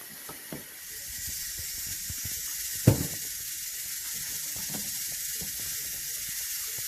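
Oil heating in a pan for cabbage, a steady moderate hiss with scattered pops and crackles and one sharper knock near the middle; no talking.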